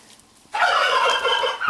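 A turkey on a winter farmyard lets out one loud, close gobble after a brief quiet moment, the rapid rattling call lasting about a second.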